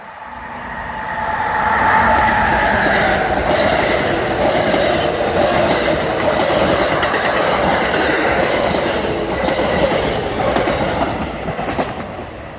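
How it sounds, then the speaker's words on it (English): Amtrak 94 diesel passenger train from Norfolk to Boston rolling through Noroton Heights Station on a summer evening, a steady loud rumble with clickety-clack wheels on rail joints building in and holding for the whole pass. "Here's another delayed Amtrak train. This is the Amtrak 94 from Norfolk to Boston."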